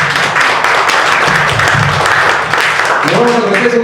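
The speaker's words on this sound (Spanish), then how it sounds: "un fuerte aplauso para todos ustedes" Workshop participants at a healthcare training course applauding, a steady dense clapping under ongoing talk, close and fairly loud, with a voice speaking toward the end.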